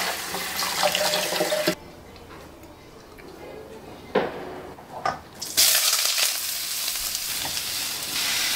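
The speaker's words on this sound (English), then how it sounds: "Make sure you run the boiled noodles under cold water." Cold tap water running over boiled noodles in a home kitchen sink, a bright hissing splash that stops, then returns loud and steady after a quieter stretch with a few clatters.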